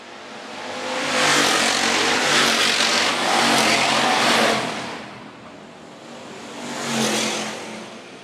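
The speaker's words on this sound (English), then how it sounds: "Just ran the fastest lap here tonight for the hobby stock division as Austin Davis continuing to lead out front" Hobby stock race cars lapping a dirt raceway at night, engines roaring loudly as they pass close by, fading, then swelling again as another car approaches.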